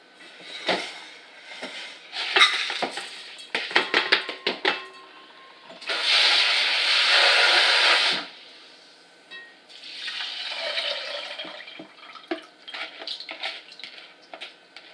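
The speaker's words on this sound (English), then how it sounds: "I'm gonna put rice and water here" Rice and water go into a Japanese rice cooker: scattered clinks and taps of the inner pot and utensils, a loud gush of water pouring in for a couple of seconds, then a softer splash and more handling sounds, close by.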